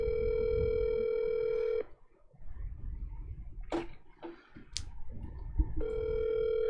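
A phone call rings over speakerphone, a steady electronic ringback tone that cuts off, followed by a stretch of quiet background with a few short clicks and beeps before the tone returns, fairly faint.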